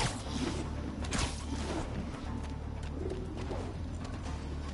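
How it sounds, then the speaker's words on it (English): A pigeon coos in the Spider-Man PS4 video game, soft low murmuring calls near the start over a steady background hum of city ambience, fairly quiet and without talking. "Hey, little bird."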